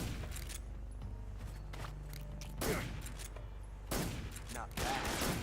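Sparse gunshots and reloading clicks ring out in Metal Gear Solid 3, with a few sharp shots spaced seconds apart over a low game ambience, and faint mechanical handling between them.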